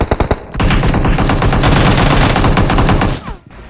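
Close, loud automatic gunfire from a house in the mobile battle royale game PUBG Mobile: a few single shots, then a sustained rattling burst lasting about three seconds before it stops.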